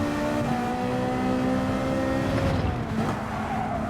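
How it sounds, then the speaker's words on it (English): A race car engine holds a steady high-pitched drone through a corner, with tire squeal and a shifting pitch near the end, loud and continuous with no voices. "Power is on. Tires are squealing."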